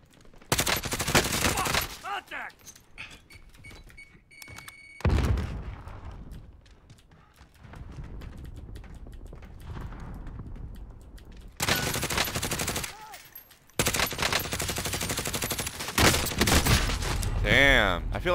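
Rapid bursts of automatic gunfire crackle loudly in the Warzone Zombie Royale battle royale shooter, coming in several dense volleys separated by quieter gaps where players talk.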